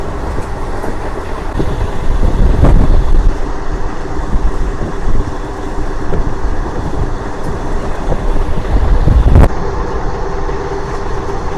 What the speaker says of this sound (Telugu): WAG9 లోకోమోటివ్ అయితే మనల్ని అయితే పుల్ చేస్తుంది.